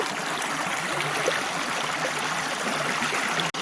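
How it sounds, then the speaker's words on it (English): A creek in West Virginia, worked with a sluice box during gold prospecting, gives a steady close rush of flowing water. The wash stays even throughout and ends in one brief click near the end. "Just me and the creek."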